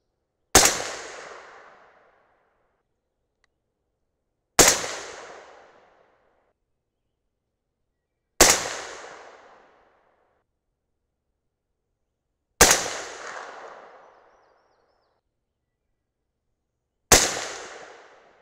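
Five loud rifle shots from an Aero Precision M5E1 AR-10 firing Berger hybrid bullets loaded with 40 grains of Varget, spaced about four seconds apart, each a sharp crack with a short echoing decay and silence between.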